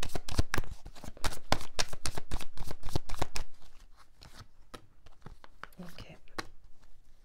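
Tarot cards are shuffled close up in a quick run of crisp riffling flutters, then give way to softer, sparser card handling and faint rustles.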